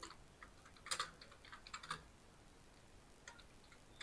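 Typing on a computer keyboard, quiet irregular clicks and taps in short bursts with brief pauses, close by in a still room, with no voices.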